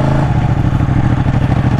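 Ducati 899 Panigale L-twin motorcycle engine revving, a loud, steady, throbbing mechanical roar held close and continuous with no voices.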